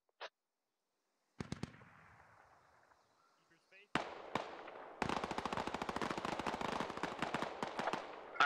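Machine gun suppression fire in the SquadOps military shooter game, opening with a few isolated shots and then a long, loud burst of rapid automatic fire with quick, evenly spaced cracks.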